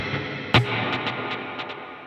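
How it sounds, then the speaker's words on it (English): Electric guitar played through a modeler with delay and reverb, one sharp plucked note followed by a string of fading delay repeats that trail off into a washy reverb tail, heard close and alone. "Right, so delay and reverb together."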